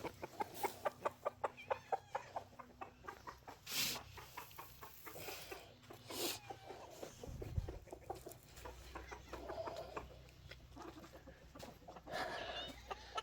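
Chickens clucking and squawking close by, a busy flock with a rapid run of calls at the start, then scattered clucks and rustling.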